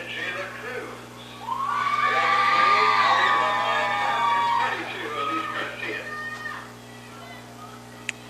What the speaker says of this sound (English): getting a big cheer from what we can only assume are friends and family as she checks in